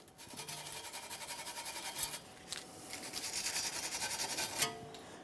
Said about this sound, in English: I'm just using a wire brush.